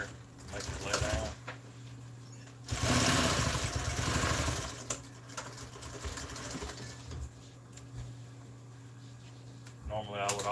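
A sewing machine stitching RV seat upholstery runs in a steady mechanical whir for a few seconds, moderately loud, with quieter background hum before and after.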